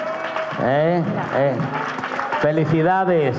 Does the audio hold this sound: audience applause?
yes